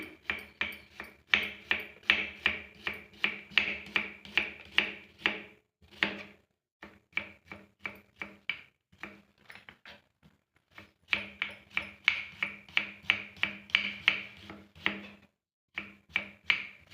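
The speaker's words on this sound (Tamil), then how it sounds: "நல்லா ஸ்லைஸாக அரைஞ்சிக்கலாம் வெங்காயம்" A knife slices onions against a board in quick, even runs of crisp taps, with a few short pauses between bursts, close and clear without talk.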